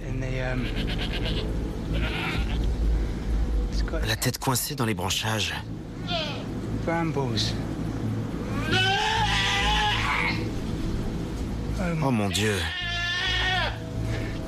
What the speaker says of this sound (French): Il y a une chèvre juste là.